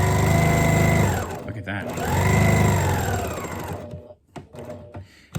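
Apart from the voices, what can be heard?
sewing machine stitching a scarf face mask pocket edge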